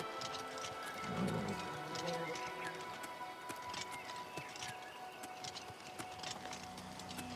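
Horse hooves clip-clop in a steady, fairly quick rhythm in the video game Oblivion Remastered, under a constant ambient wash, moderately loud with no talking.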